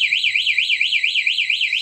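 The two-way alarm fitted to a Raider 150 Fi motorcycle sounds a loud, close, rapidly warbling electronic siren that sweeps up and down in a fast, even rhythm throughout, with no talking over it.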